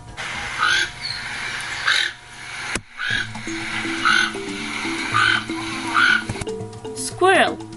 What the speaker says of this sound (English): Toucan bird.